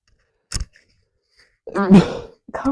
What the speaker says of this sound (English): You did not just sneeze directly into the mic.